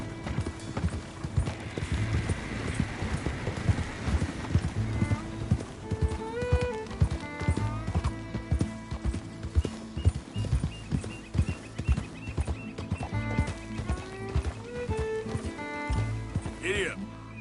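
Horse hooves clip-clop rapidly and steadily throughout a galloping ride in Red Dead Redemption 2, mixed with game music and a spoken voice.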